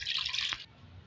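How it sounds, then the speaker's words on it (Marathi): Water poured into a pressure cooker while making Rajasthani dal batti, a close, splashy hiss lasting about half a second before stopping abruptly, with quiet room tone after and no talk. "आपण एका कुकर मध्ये पाणी घेणार आहोत"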